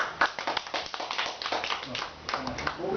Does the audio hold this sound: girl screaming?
no